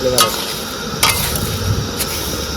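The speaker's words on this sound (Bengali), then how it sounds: "না ডাল ভাজা হয়ে গেল" Mung dal and bay leaves sizzle steadily in a hot pan while a utensil scrapes and stirs, with a few sharp scraping strokes against the metal.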